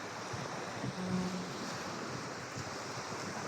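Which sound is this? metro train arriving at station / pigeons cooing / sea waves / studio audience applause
sea waves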